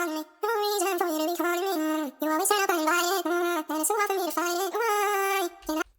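A sung vocal line pitched up an extra octave in resample mode, giving a thin, bright, chipmunk-like tone; a continuous melodic phrase with short gaps between notes, up front and alone.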